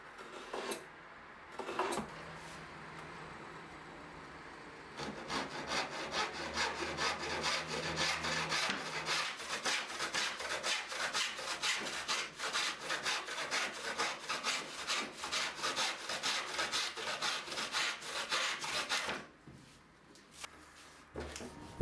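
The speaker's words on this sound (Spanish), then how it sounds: "con un serrucho de costilla corto lo más cerca que puedo de estas líneas" A short backsaw steadily cuts wooden crossbars for a traditional tool chest, with rapid rhythmic rasping strokes close up for about fourteen seconds, briefly preceded and followed by quieter handling.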